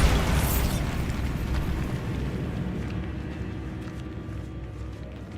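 A Bombarda spell explosion from the video game Hogwarts Legacy opens with a loud, dense blast that decays into a long rumbling, crackling tail fading over several seconds.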